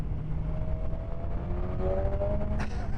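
A BMW M1000R Competition inline-four motorcycle engine drones steadily while riding, with a rising tone building toward a short sharper burst near the end, loud and close with wind rush.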